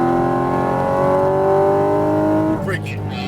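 A Porsche 718 Cayman GT4 RS accelerates hard on a Las Vegas racetrack, its engine note climbing steadily and loudly up through the revs before easing off near the end, with a voice speaking over it.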